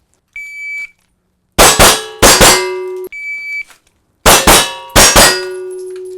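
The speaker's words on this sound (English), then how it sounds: "hear the beginning of that beep" A shot timer beeps for a shooter at a range, and sharp, loud gunshot reports follow it, grouped in pairs, over two close repeating strings of fire.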